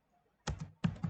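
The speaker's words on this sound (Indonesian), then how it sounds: "Kemudian kita ketikkan Python 3" Two quick bursts of key clicks on a computer keyboard as a command is typed in a terminal for a Python unit-test lab, crisp and close in a quiet room.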